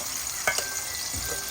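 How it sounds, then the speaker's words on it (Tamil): Vegetables sizzle and crackle in hot oil as they fry for noodles, with a steady hiss and a few sharp pops close by. "இப்போ இப்படித்தான் எல்லா மரக்கறியும் நான் பொரிக்க போகிறேன்"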